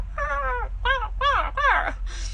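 A person's voice imitates a loud crow cawing outside a window, giving four drawn-out, throaty caws in quick succession, close and fairly loud, followed by a brief breathy trailing sound.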